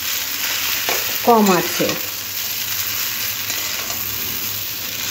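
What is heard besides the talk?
vegetables and chowmein frying in a pan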